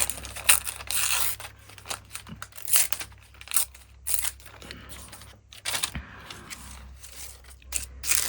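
Sheets of tracing paper being handled and snipped close up for an altered journal, with repeated crisp crinkles, rustles and short cutting snaps arriving in irregular bursts.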